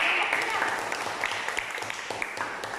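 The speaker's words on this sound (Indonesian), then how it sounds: "tepuk tangan dulu" Classroom applause in a lesson, a short burst of students clapping together that fades slightly over a few seconds, with some voices mixed in.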